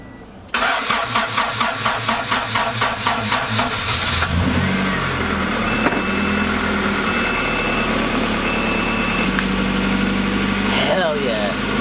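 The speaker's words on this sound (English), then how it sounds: "I'm gonna jump start the car, and then we'll get to hear the initial sound of the car" A 1992–1995 Honda Civic or 1994–2001 Acura Integra engine cranks rapidly with a rhythmic starter chug, catches after a few seconds, then settles into a steady, loud idle with slight revving; a voice is heard briefly.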